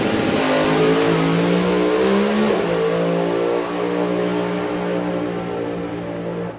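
A turbocharged drag racing car at a European drag racing finals at Santa Pod Raceway in England launches and accelerates with a loud, sustained engine roar that climbs in pitch, shifts once and fades slightly as it pulls away.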